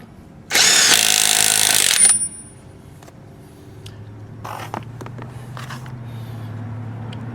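Power torque wrench kicking in at its high torque setting: a loud, dense burst of whirring and rattling lasting about a second and a half, then cutting off to a low steady hum with a few faint clicks.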